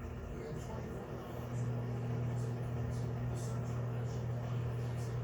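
Steady low electrical hum of a microwave oven running, with a faint background buzz, growing slightly louder after a moment.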